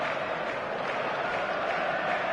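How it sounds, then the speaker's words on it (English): Stadium crowd noise from the eFootball video game, a dense, steady roar of many voices swelling toward a crescendo before kickoff, loud and continuous throughout with no break. "The noise is just about reaching a crescendo here as these two sides get ready to lock horns."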